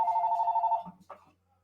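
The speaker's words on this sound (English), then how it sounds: "answer the phone." A telephone rings in one steady electronic trill lasting just under a second, then cuts off, followed by a brief faint rustle and near silence.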